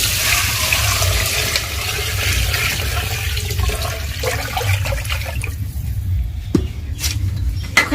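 Water goes into a pan of fried lentils while cooking khichri at home, a loud, rushing gush of pouring and bubbling that gradually thins and settles.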